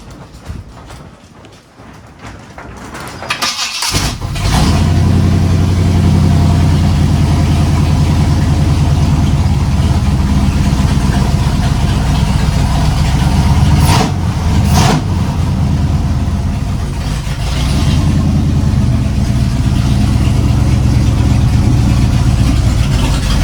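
A Chevrolet C10 truck engine with Holley EFI cranks and catches after a few seconds, then settles into a loud, steady, close-up idle that runs on with a constant rumble.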